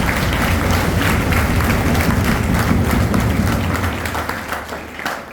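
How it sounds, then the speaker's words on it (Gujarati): Loud, dense applause for the team behind a school admission festival, a sustained roar of many hands from a large gathering that tapers off toward the end. "પ્રવેશોત્સવ ટીમના આ ટીમ વર્કને તાળીઓના ગડગડાટથી વધાવીશું"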